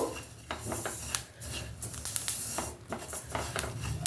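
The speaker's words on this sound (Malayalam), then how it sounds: "ഇനി ഒന്ന് നന്നായിട്ട് ഇളക്കിയാൽ മതി" Roasted sesame seeds stirred in a pan with the gas already off, a steady scraping and clinking of utensil against metal with brief sharper knocks, close and fairly loud with no voices.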